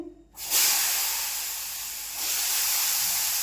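Potatoes frying in a pan give a sudden rush of steady hissing sizzle that starts after a brief quiet moment and continues evenly, swelling slightly near the end, with no voices.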